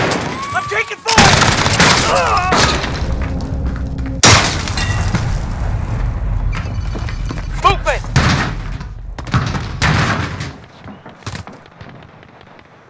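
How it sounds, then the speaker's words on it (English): Call of Duty Modern Warfare multiplayer gunfire, with loud close bursts of shots, cracks and impacts packed densely across the whole stretch, along with shattering and thuds, with no spoken words. "I'm taking fire."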